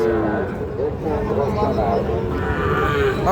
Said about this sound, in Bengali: এই পাশে কিন্তু সুন্দর সুন্দর দুই দুইটা গরু আছে